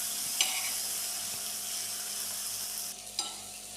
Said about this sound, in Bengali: এরপর লবণ দিয়ে দিচ্ছি, হলুদ গুঁড়ো দিয়ে দিচ্ছি, মশলা গুঁড়ো দিয়ে ভালোভাবে ভেজে নেব